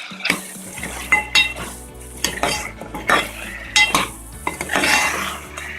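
Keema aloo matar, minced meat with potato and peas, is mixed in a pan: close, loud metal spoon clanks and scrapes against the pan repeat unevenly over a light sizzle.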